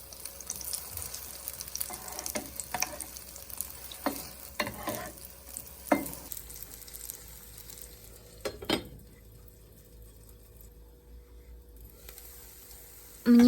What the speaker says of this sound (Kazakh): Енді екінші бетіне аударып, шамамен 1-2 минутта қуырып аламыз.